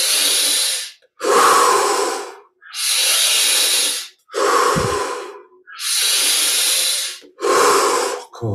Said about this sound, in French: On va rajouter 5 respirations.